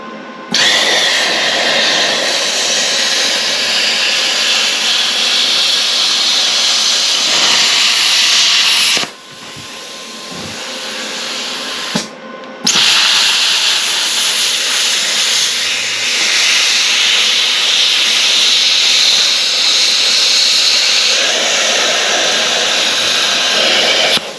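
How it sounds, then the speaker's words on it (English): A plasma cutter slicing through an AC compressor, a loud, steady roaring hiss that runs almost the whole time and cuts out briefly near the middle before resuming. "that plasma cutter is the way to go."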